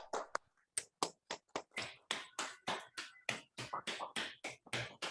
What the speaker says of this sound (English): can everyone just unmute and quickly just give them a round of applause for the work that we have done past